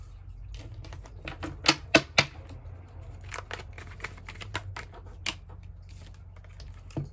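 Tarot cards being handled and gathered, a faint series of light taps, flicks and soft shuffles at an irregular pace, with a few sharper clicks, quiet and close with no talk.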